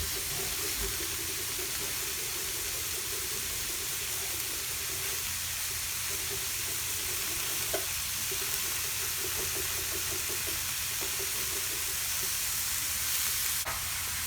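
Mushrooms and grated garlic sweat in a pan over leftover ribeye steak drippings, a steady low sizzle running throughout with faint stirring and scraping, close and alone with no talk.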